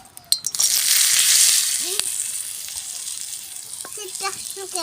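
Pangas fish with spices, green chillies and onion sizzling steadily in a pan, with scraping stirs and a few utensil clinks over a continuous hiss of frying.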